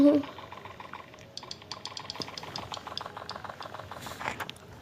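Keyboard typing to enter game chat while playing Grow a Garden, heard as a quick run of light, fairly faint key clicks over a low background hum.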